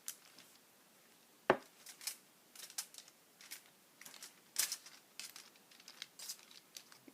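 Scissors roll a homemade torch's candle wick through wax, giving faint, scattered scraping, crinkling and tapping sounds in short irregular bursts with a sharper click partway through, and no voice.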